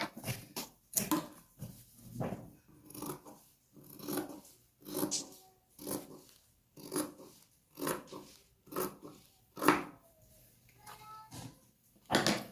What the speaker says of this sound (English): I'll cut off these parts.